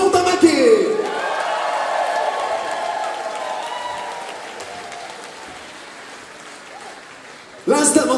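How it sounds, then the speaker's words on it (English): A concert crowd at Rock City in the UK, at a show, roars and applauds after a voice on the PA, the cheering washing broadly and then fading slowly before a sudden loud burst at the very end. "big round of applause"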